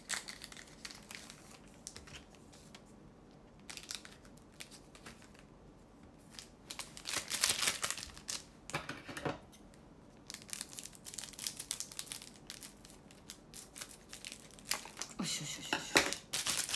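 Scissors snip through plastic packaging with irregular crinkling and crunching bursts, loudest in the second half, while a voice speaks quietly now and then.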